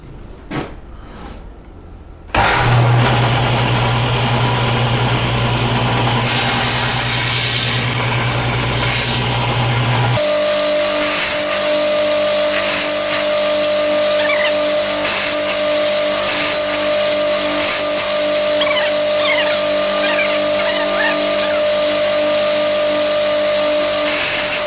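A table saw runs steadily and loudly from about two seconds in, its motor tone shifting partway through as it keeps spinning, with no talk over it.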